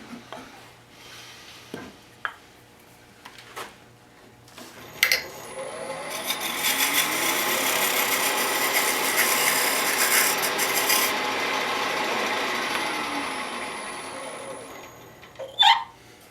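A skew chisel shaves a tenon on a wooden box spinning on a lathe, a sustained rasping cut swelling and fading, framed by scattered taps and knocks before and after.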